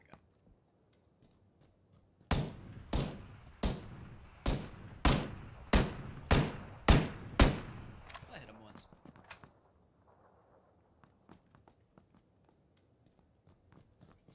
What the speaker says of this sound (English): I'm gonna shoot at that guy.